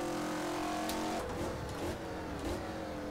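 A race car in the rFactor sim racing game drones steadily at high revs, with a gear change partway through and a faint tire squeal, loud and continuous without talk.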